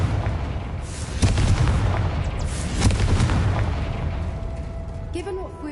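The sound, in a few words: Confringo blasting spell explosion, from video game Hogwarts Legacy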